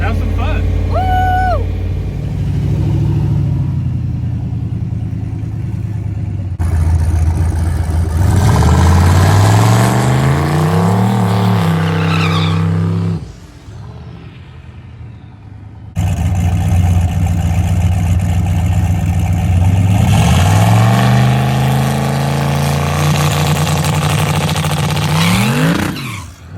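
A Cummins diesel drag racer makes a pass down the strip, its engine roaring loudly and climbing in repeated sweeps as it accelerates, with a brief lull midway before surging again, and voices occasionally heard over it.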